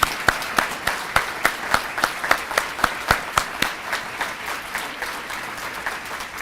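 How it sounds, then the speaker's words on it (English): Applause for Career Tech All-Stars at a 2025 reception, steady and moderately loud with sharp individual claps standing out in a regular pulse above the softer crowd clapping. "A round of applause for our Career Tech All-Stars."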